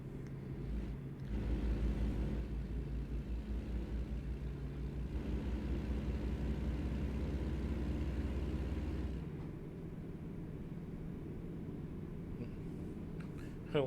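An engine retarder brakes a truck in American Truck Simulator, a low, steady droning rumble that holds for several seconds, then eases into a quieter engine hum.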